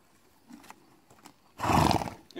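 A horse snorts and whinnies loudly up close near the end, after a few quieter shuffling sounds.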